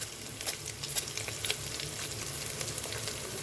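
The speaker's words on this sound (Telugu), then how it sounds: "పసుపు వేసుకుందాము, 1 స్పూన్ పసుపు వేసుకుందాము, ఇంగు వేసుకుందామమ్మా" Turmeric and asafoetida sizzle in hot oil for a yellow cucumber dal, a steady close frying hiss with small crackles and pops, no voices.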